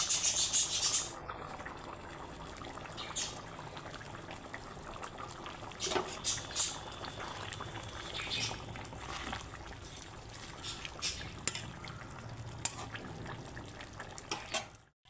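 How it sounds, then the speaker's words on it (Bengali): Boiled jackfruit water being poured into a simmering egg and jackfruit curry in a pot, a steady continuous splashing trickle lasting well over ten seconds with faint clinks. "এখন এঁচোড় সেদ্ধর জলটা আমি দিয়ে দিচ্ছি।"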